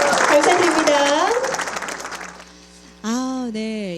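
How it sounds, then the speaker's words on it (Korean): Audience applause at a book-launch concert for an education book, a broad clatter of clapping under a voice that thins out over two seconds, followed by a sustained musical tone. "뜨거운 박수 감사합니다."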